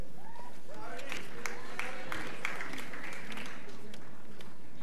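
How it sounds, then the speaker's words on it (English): Scattered audience applause at a college commencement ceremony: a short burst of light clapping running under a speaking voice, moderately distant. "You can applaud."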